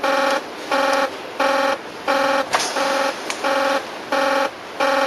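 A pulsing alarm howls in a nuclear reactor control room at Chernobyl, about seven even beeping tones repeating in steady rhythm, loud and close.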